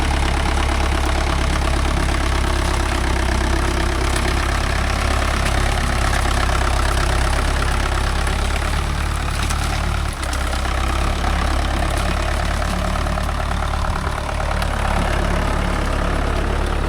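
Mahindra 575 DI tractor fitted with cage wheels working through muddy rice paddy, its diesel engine chugging loud and close in a steady, unbroken drone for the whole stretch.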